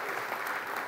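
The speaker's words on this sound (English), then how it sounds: "a big round of applause for Swami Sukhabodhananda" An audience at a motivational keynote claps in a dense, continuous burst of applause, close and loud, with no speech over it.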